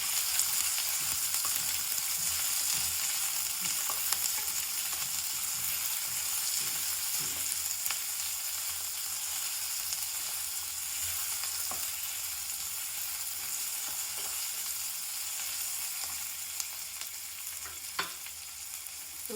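Large-cut chopped onions sizzle steadily in a pan for a tomato bath, with occasional scraping stirs and small pops breaking through a constant, fairly close frying hiss.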